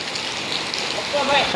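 Heavy rain pours down steadily outdoors, a dense hiss of drops on surfaces near the microphone, with a brief voice rising at the end.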